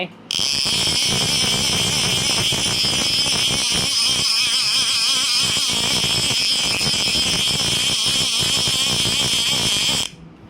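A blue Gmax J powerX fishing reel lets out a loud, continuous rapid clicking drag buzz that runs steadily for about ten seconds before cutting off abruptly.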